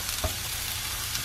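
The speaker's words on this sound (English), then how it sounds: "In the pan goes onions." Onions crackle and hiss as they drop into a hot frying pan in a small van kitchen, a steady close sizzle with one brief clatter near the start.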